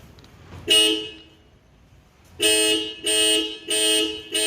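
A Tata Nexon XMS sounds its horn or alarm from the key fob to locate it: one loud blast, a pause, then three more close, evenly spaced honks.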